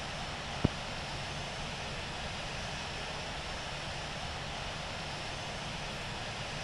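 An aircraft taxiing in the Infinite Flight simulator, an Air India flight heading to runway 27: a steady, faint broadband engine hiss and hum with one brief click near the start and no speech.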